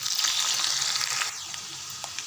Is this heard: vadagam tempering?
yes